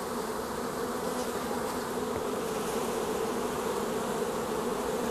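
A honeybee swarm, moved from a trap into a log hive, buzzes in a dense, steady drone that stays loud and unbroken throughout.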